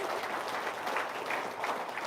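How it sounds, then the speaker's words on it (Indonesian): A room of people gives a round of applause at a testimonial gathering, a soft, even spread of clapping that runs throughout without a clear break. "Tepuk tangan dong."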